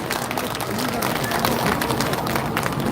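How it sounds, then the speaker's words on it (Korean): Audience at a street rally and march in Seoul applauds in encouragement, a dense, steady wash of clapping with crowd murmur throughout. "여러분들 다시 한번 이분들께 힘찬 격려의 박수 보내주십시오"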